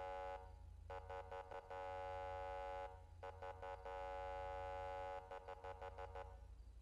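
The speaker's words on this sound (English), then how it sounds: "I can also have it toggle on air horns, though." Emergency vehicle air horns from the Luxart Vehicle Control mod in a video game sound in three loud bursts of rapid honking blasts over a steady siren-like harmonic drone, with no talking.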